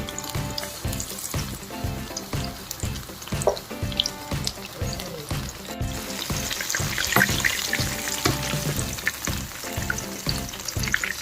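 Bread bajji fritters frying in hot oil, a steady crackling sizzle throughout with soft clinks and bubbling, close and moderately loud with no talking.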